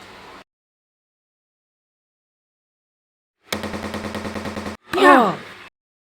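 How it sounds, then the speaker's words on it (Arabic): Gunfire in an animated series, The Amazing Digital Circus in an Egyptian Arabic dub: after silence, a loud, rapid, stuttering volley lasts about a second, then a short swooping sound follows. "ما اظنش ان دي طلقة محسوبة"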